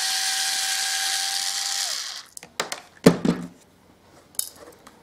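Parts of a Beluga YH 7000 baitrunner fishing reel are unscrewed and handled, with a steady whine fading out and then sharp metallic clicks, ticks and light clatter at close range.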